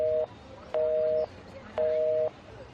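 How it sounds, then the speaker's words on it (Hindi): A telephone busy tone beeps three times in even on-off pulses after a call is cut off, clear and steady with nothing else behind it. "मोंटी कॉल डिस्कनेक्ट कर चुका था"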